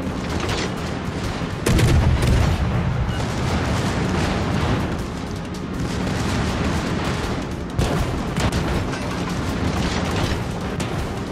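Warship main guns firing salvos in World of Warships, loud booming blasts and rolling gunfire that rise to a heavy burst near the start and return later over a dense, continuous battle rumble, with no talking.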